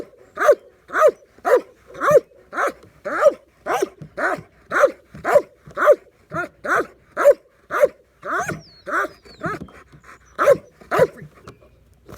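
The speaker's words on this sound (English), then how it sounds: "And there I'm asking more and more and more barking, more activity, better cadence, better rhythm, better pitch." A dog in training barks in a steady, rapid rhythm, about twenty sharp barks at roughly one per half second, close and loud with brief panting gaps between.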